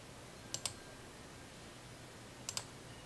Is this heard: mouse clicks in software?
yes